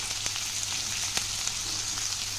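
Potato and pumpkin fry in a pan with turmeric, salt and green chillies, giving a soft, continuous sizzle. Faint clicks of stirring come through, and no one speaks.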